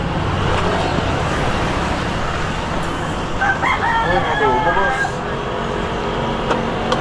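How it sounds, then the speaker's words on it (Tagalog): A rooster crows once in the middle distance, partly buried under busy street traffic and background voices. "Manok."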